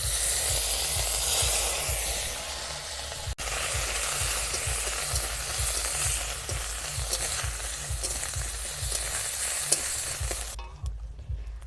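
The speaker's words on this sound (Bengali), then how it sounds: "আদা একদম তেলের মধ্যে ভালো করে ভাজা ভাজা হয়ে গেছে" Ginger paste fries in oil in a wok with cumin seeds and two bay leaves, giving a loud, steady sizzle. Regular scraping stir strokes sound close up, with no talking.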